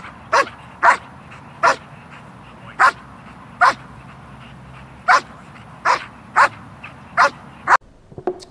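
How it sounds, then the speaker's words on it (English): A Black German Shepherd barks on command, about a dozen sharp, loud, close barks spaced a second or so apart over quiet room tone, with no talking. "barking on command while holding the body while moving"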